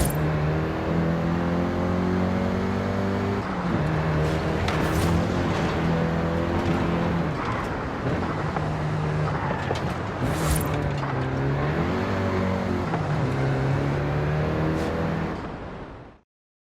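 A Volkswagen Golf GTI engine hums steadily through Forza Horizon 5 driving, revving up and down through gear changes with a smooth, continuous drone that cuts off abruptly at the end.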